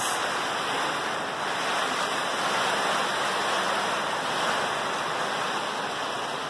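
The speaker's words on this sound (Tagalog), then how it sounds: "So ito yung bagyo natin ngayon." Typhoon Ulysses lashing Angeles City, Pampanga, with a steady, loud roar of wind and driving rain, a dense continuous rushing wash that holds without pause and has no voices over it.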